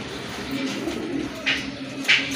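A pair of quality pigeons, a spangled male and a female, give soft, close coos in short repeated phrases over a quiet room background.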